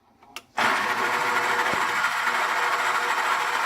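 An electric mixer whisks cookie dough, its motor starting abruptly after a few faint clicks, then running in a loud, steady whir close by.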